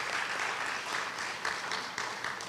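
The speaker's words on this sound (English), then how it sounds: "A big round of applause to our team of musicians." An audience claps for a team of musicians at a stage event honoring Bindhya Parthasarathy, a steady, moderately quiet wash of many hands with gentle swells.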